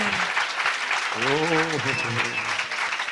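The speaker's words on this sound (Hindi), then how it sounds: "Come on, clap your hands and praise the Lord." A church congregation clapping hands in praise during a worship session, continuous clapping under a man singing and calling out.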